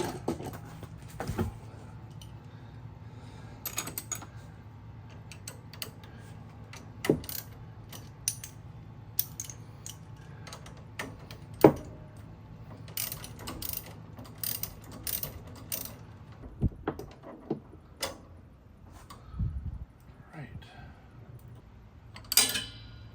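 A socket wrench ratchets on a 1967 Baja during a tune-up, giving scattered bursts of rapid clicking and metallic clinks over a low steady hum, close and intermittent across the whole stretch, without speech.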